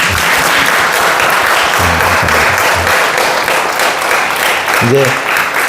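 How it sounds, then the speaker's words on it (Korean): A church congregation applauds to welcome a newcomer, with steady, dense clapping from the crowd filling the room and a voice speaking briefly over it. "우리 환영한다고 박수하겠습니다."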